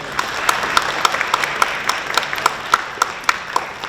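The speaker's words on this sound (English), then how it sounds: "if you'll give him a round of applause anyway" A small audience at a diversity awards ceremony claps for an absent school honoree, the sparse applause carried by a few prominent, rhythmic hand claps at a steady pace.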